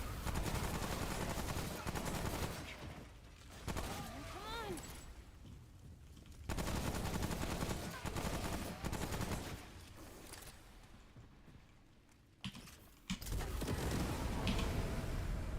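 Bursts of automatic gunfire from the Alternator in the Remnant mod of a video game, loud rapid volleys repeating in several stretches with short pauses between, a player's voice speaking now and then.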